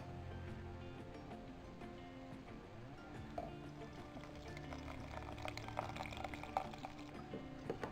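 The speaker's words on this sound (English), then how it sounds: "Put the espresso on top of that." Espresso poured into a cup over mocha and caramel sauce, a faint, soft trickle of liquid running for several seconds under low background noise.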